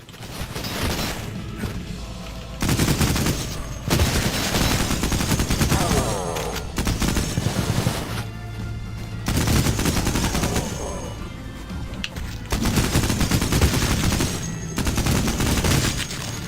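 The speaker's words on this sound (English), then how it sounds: "Where's that mounted machine gun?" A mounted machine gun in the game Cultic fires in several long, loud rattling bursts separated by brief pauses, harsh and close, with mechanical clanks between volleys and little talk.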